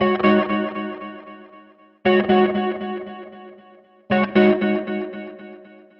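Three strummed electric guitar chords, each ringing out with a shimmering, wavering chorus and repeating echoes that fade before the next strum.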